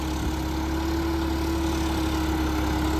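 Steady, loud drone of a Swaraj 969 4WD turbo-engine tractor running, a constant low hum with an unchanging pitch throughout and no voices.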